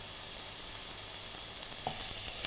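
Onions and vegetables sizzling as they caramelise in a pan for cottage pie, a soft continuous hiss that turns slightly louder and crackly toward the end.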